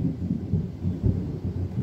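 Low, rolling thunder rumbles continuously, deep and steady with gentle swells in loudness, no voices present.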